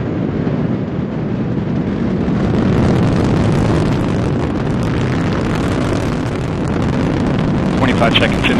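A Delta IV Heavy rocket carrying NASA's Parker Solar Probe roars at full thrust on all three boosters, a loud, continuous broadband rumble and crackle that swells steadily, with a voice speaking over the blast.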